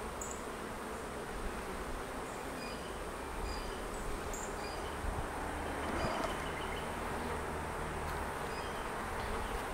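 A dense, loud swarm of honeybees drones continuously up close in a hive, a thick unbroken buzzing that swells slightly toward the end.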